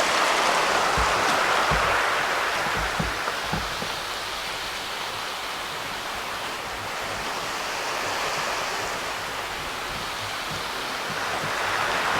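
Steady broadband rush of water flowing in a stream below Pisgah Bridge, continuous and fairly loud, with no talking.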